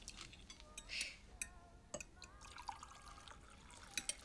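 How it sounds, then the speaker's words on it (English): Tea is poured into a cup, giving a soft trickle and light clinks of china, quiet and close beneath faint background noise. "That may be, but you can pour me some tea."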